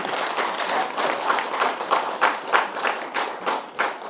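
An audience at a pyramid inauguration ceremony claps firmly for Pathri sir in a steady, rhythmic unison beat, with loud, evenly spaced claps running throughout.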